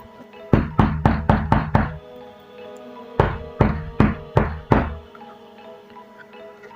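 Knocking on a door late at night: a quick burst of five sharp raps, a pause, then five more, loud and close with no voices.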